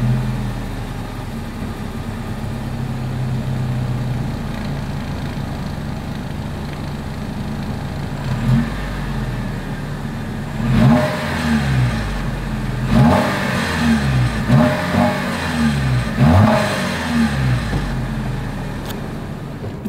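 A 2022 Lexus NX 350 idling through its dual exhaust, then several sharp revs with rising and falling engine pitch, loud and close with no talk.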